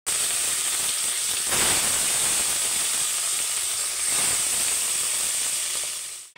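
Fish coated in salt, turmeric and chili powder fries in hot oil, giving a steady, loud, close sizzle and hiss that holds for several seconds before tapering off at the end.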